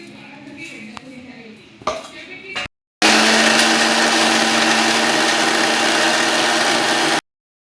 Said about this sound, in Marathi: हे बघा, आता दळून घेते मी मसाला